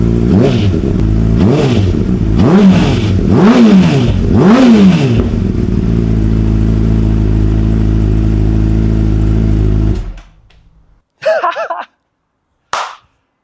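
A 2007 Honda CBR600RR track bike, wrecked but running, idles loudly then revs in five sharp rising-and-falling blips before settling to a steady idle and cutting off, followed by two short clicks or clatters.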